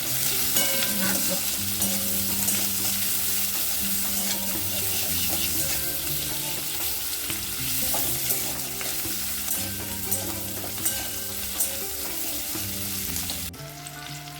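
Carrots, capsicum and red bell pepper with pepper powder sizzle loudly in a pan for chilli chicken while a spatula scrapes and stirs in a steady, rhythmic pattern for the whole stretch.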